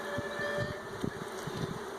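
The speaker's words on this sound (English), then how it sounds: "these bees have plenty of bee power to be able to cover these frames up here." A mass of bees buzzes steadily around swarm trap hive frames, a close, continuous drone with small pulses as individual bees pass near.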